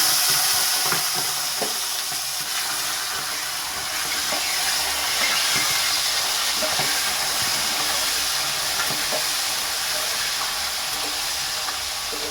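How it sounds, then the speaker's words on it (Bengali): Prawns frying in hot oil give off a steady, loud sizzling hiss with crackling pops that carries on for the whole stretch, with no talk over it. "আমি এই তেলের মধ্যে, তেলটা গরম হয়ে গেছে, এর মধ্যে চিংড়ি মাছগুলো দিয়ে দিলাম।"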